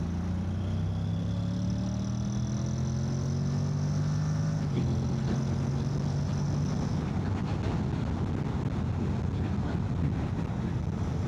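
A Honda X-ADV 750 scooter accelerates in third gear on an open road, its engine note rising steadily in pitch as it rolls on, loud and continuous under heavy wind rush that grows toward the end.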